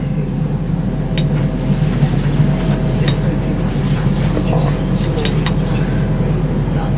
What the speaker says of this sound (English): And the little train behind us, the Selby, is running